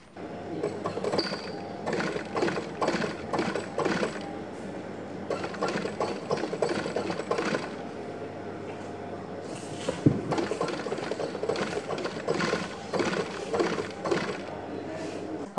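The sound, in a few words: sewing machine stitching sandal upper to lining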